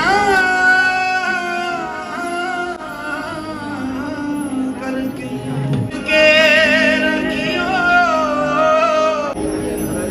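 A song plays loudly amid a large crowd, steady music with tonal melody lines running throughout the stretch.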